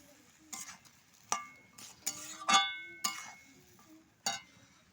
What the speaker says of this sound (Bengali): এরপরে ভালো করে নেড়ে নিব।